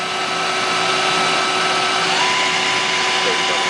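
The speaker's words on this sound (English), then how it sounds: "We're going to run the main spindle." Citizen L32VII CNC Swiss lathe main spindle spinning up through rising speeds, a steady loud machine whine with faint tonal lines, continuous and close, with a parts catcher and chip conveyor on the machine.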